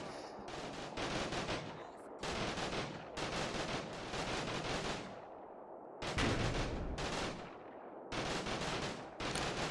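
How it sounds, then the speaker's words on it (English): Automatic gunfire in the World War II strategy game Combat Mission Final Blitzkrieg comes as long, dense bursts of rapid shots, several sustained volleys separated by short pauses, loud and close at close range. "Taking a couple casualties in there from some close range automatic fire."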